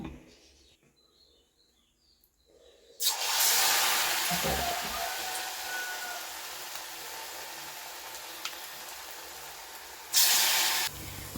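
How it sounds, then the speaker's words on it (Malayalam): Batter-dipped banana balls deep-frying in hot oil: after a quiet start, a sudden loud sizzling hiss bursts up and holds steady, close by, swelling briefly louder again near the end. "ഇനി അത് നമുക്ക് ബാറ്ററി മുക്കി പൊരിച്ചെടുക്കാം"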